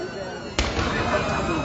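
A loud firework bang bursts out at an outdoor kabaddi league final, followed by crackling and rumbling, with a voice announcing over a loudspeaker throughout.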